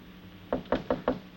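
Four sharp knocks on a wooden door, evenly spaced and close, set against a faint background hiss, in an old 1940 film scene.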